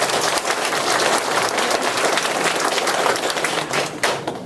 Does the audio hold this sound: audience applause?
yes